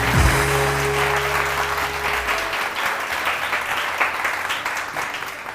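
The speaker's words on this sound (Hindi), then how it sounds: "बहुत सारी तालियाँ।" Studio audience applause on a TV morning show, dense and steady clapping throughout, loud and close, with a brief low sweeping tone at the start.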